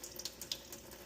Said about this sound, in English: Just a trickle, and the water is trickling.